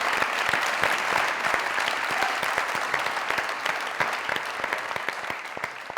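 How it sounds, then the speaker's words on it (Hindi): A studio audience at a Pakistani comedy talk show breaks into loud, dense applause that holds steady throughout, a thick wash of many hands clapping at once. "जोरदार तालियां।"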